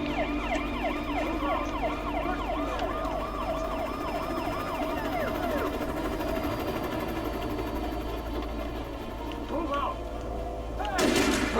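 Police gunfire in the video game Alan Wake rattles on continuously beneath wailing sirens, ending with a louder, close burst.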